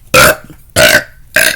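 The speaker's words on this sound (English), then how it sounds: "Big burp." Three loud, close burps in quick succession, each a short throaty blast separated by brief pauses, with no talking.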